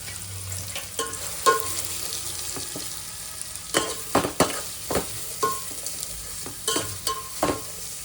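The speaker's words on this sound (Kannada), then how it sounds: "ಎಣ್ಣೆ ಸ್ವಲ್ಪ ಜಾಸ್ತಿ ಕಾದ್ಬಿಟ್ಟಿತ್ತು ಅದಕ್ಕೆ ನಾನು ಫಸ್ಟ್ ಈರುಳ್ಳಿ ಹಾಕ್ಕೊಂಡೆ" Hot oil and ghee sizzle with a steady hiss as onions fry for biryani, broken by sharp scraping and stirring strokes against the pan, close up.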